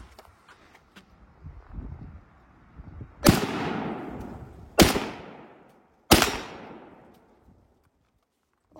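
Three loud, sharp rifle shots, likely an M1, crack close by with a few seconds between each, every report trailing off in a long outdoor decay, faint small clicks before them.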